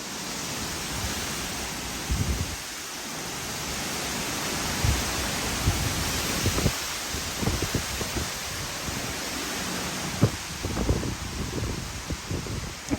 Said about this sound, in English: The wind keeps coming from different directions, the north and the east.